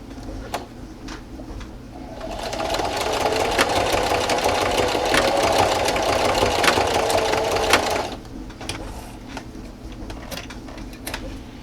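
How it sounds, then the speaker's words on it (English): A sewing machine runs a zigzag stitch across fabric for a dust mask, its fast, steady mechanical hum close and loud for about six seconds, framed by quieter clicks and handling before and after. "Now I'll be switching back to the zigzag stitch."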